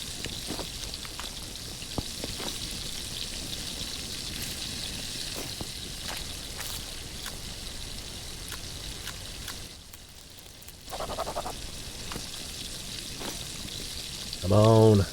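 In The Last Plague: Blight, raw meat strips sizzle on a smoker while water boils, a steady crackling, bubbling hiss that runs for most of the stretch, dipping briefly near the end.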